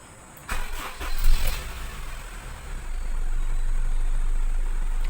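A 2007 Honda CR-V engine cranks briefly and catches, then settles into a steady low idle that carries on close by and alone.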